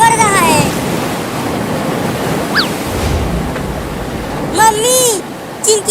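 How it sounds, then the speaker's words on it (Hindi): Rushing floodwater sweeps through a flooded village as a steady, loud broadband roar, with brief voices rising over it near the end. "बाढ़ का पानी बढ़ रहा है।"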